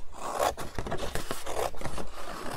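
Scissors roughly cutting through a sheet of mirror card for a craft project, a close, continuous run of rasping snips and scraping strokes with no talking.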